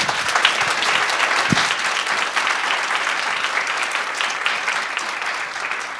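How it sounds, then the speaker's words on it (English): An audience gives sustained applause for the panelists after a women-in-industry panel discussion, steady and full-bodied clapping that stays loud and even throughout. "One final round of applause for our panelists today"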